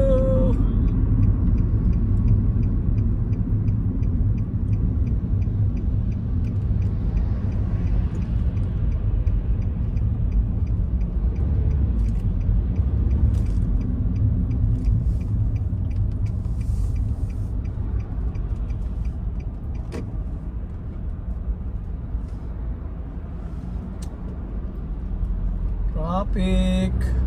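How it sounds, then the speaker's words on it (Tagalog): Friday road traffic in Australia, heard from inside a vehicle: a constant low engine rumble and road noise with a brief hiss of an air brake, steady and close throughout. "Traffic na Friday ngayon."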